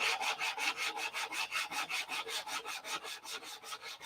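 Hand-sanding a wooden piece with steady back-and-forth strokes, roughly five per second, a rhythmic scratchy rasp close to the mic with no talking.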